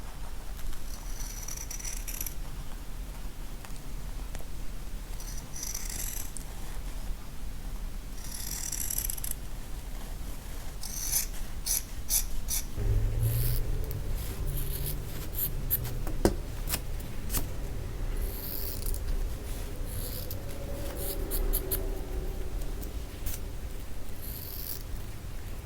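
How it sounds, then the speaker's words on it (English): Strips of fabric being cut with scissors while making a sketchbook: quiet, intermittent snipping and rustling in scattered bursts, close up and faint, with small handling knocks and no talk. "I'm going to cut a few strips of fabric and sort of stick them across."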